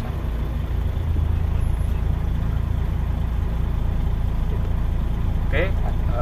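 A Mercedes-Benz Arocs 4845 truck's engine revs up loudly and steadily while accelerating on an incline. A brief hiss, likely from the air brakes releasing, comes near the end.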